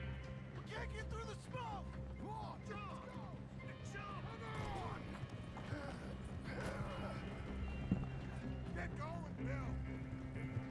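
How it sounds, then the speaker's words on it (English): Horse hooves from riding on the back of a companion's horse in Red Dead Redemption 2, a steady, faint galloping patter under continuous talking, with occasional game sounds mixed in. "This is the only time that we actually ride on the back of a companion's horse in the entire game."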